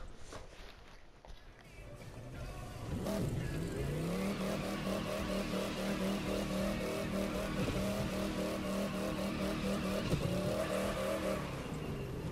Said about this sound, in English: we'll just go for a little bit of a drive, we'll just burn out real quick